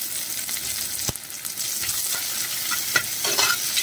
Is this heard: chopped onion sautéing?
yes